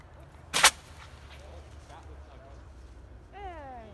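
A model rocket launches outdoors in one sharp, brief burst of thrust near the start. A faint whistle and a voice follow afterward.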